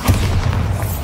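The Bombarda blast spell from Hogwarts Legacy lands as a loud, close, low boom that swells at once and rumbles briefly.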